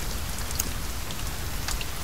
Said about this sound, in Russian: только дождик изменяется